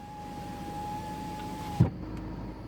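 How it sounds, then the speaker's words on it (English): The power window of a 2009 Volkswagen Tiguan rolls up with a steady electric motor whine that holds for nearly two seconds and ends in a soft thump as the glass seats, heard from inside the car. "let's go ahead and shut the door and roll the window up"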